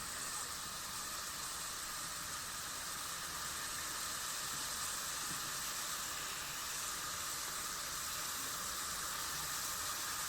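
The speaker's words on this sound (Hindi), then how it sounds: "ये आप देख सकते हैं चिकन की भुनाई अच्छे तरीके से हो चुकी है।" Chicken pieces for bhuna masala sizzle in a pan, a soft, even, continuous hiss of frying held at low level throughout with no distinct bursts or talk.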